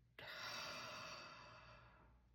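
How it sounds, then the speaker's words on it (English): A slow, deep breath out during a calming grounding exercise: one soft, breathy exhale that starts suddenly, stays close and steady, then fades gradually, with no talking. "Just breathing in and breathing out."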